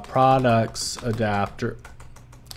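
Light clicking of a computer keyboard while someone types Kotlin code for an Android ecommerce app; the keystrokes are soft and mostly sit under a person speaking.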